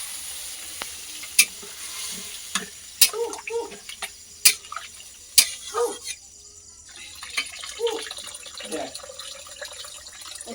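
Water is poured into frying catla fish curry with elephant foot yam as it is stirred on an outdoor clay stove, giving a soft sizzle and bubbling broken by sharp utensil clinks, with some faint voice sounds in the background.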